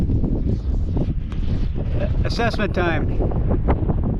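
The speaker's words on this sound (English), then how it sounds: "Wind is up. Out of the southwest." Gusty wind buffets the microphone beside a whitecapped lake in the southwest breeze, a rough continuous rumble while someone speaks briefly.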